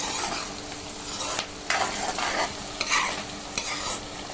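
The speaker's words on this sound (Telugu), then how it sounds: "ఫ్లేమ్ అనేది మీడియం ఫ్లేమ్లో పెట్టుకొని ఆనియన్స్ అయితే బాగా వేపేసుకోవాలి." Onions frying in oil on a medium flame for a mushroom curry, a steady close sizzle broken by several bursts of stirring with a utensil scraping the pan, no voices.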